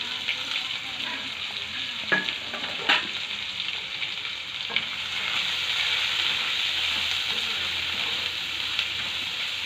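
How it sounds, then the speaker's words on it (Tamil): Chopped onions fry in a pan for semiya kichadi, a soft, steady sizzle with a few faint clinks of stirring, heard alone with no talk. "நல்லா நம்ம அதை ஃப்ரை பண்ணணும்."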